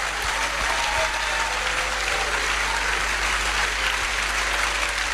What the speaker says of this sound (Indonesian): kita berikan tepuk tangan penghargaan kepada Pastor Sandi Adelaja